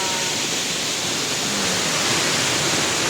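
Tigis falls at Lila, Bohol, pouring straight into the sea: a dense, steady roar of rushing water, loud and close, continuous without any break or voices.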